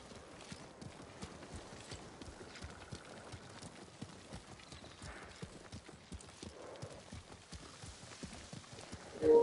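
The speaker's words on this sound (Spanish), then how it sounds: "Mira cómo va ese caballito, mi amigo." A horse gallops in the Ghost of Tsushima video game with fast, rhythmic hoof clip-clops at a moderate level, broken by a brief louder burst at the very end.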